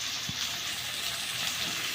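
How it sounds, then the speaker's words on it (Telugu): Tomatoes hitting browned onions in a pan while cooking mutton gongura, a dense steady sizzle with a soft thump early on, no talk. "టమాటాలు కూడా వేసేద్దాము"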